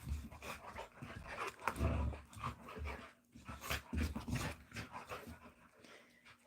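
Puppies pant and whimper close by, with quick breathy panting broken by soft whines and small yelps, and no talking.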